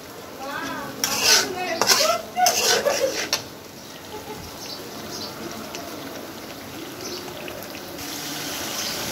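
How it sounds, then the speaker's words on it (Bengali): Spice paste being stirred and fried in a pan with a metal utensil, clattering and scraping in bursts over the first few seconds, then a low steady sizzle. "দেখছেন মশলাটা অনেকক্ষণ লাগাই কষাচ্ছি"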